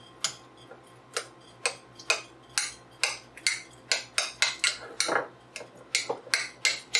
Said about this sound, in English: We're supposed to mush the cottage cheese.